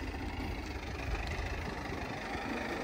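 A New Holland 3630 TX 4WD tractor engine runs steadily while turning in a field, a continuous low rumbling drone at even loudness with no talk.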